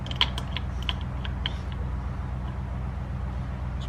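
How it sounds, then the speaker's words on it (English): A wrench turns a nut on a fire pump fitting, making a quick run of small metallic creaks and clicks up close that fade into quiet steady background noise. "Get your wrench. Make sure you grab the nut itself, not the other fitting."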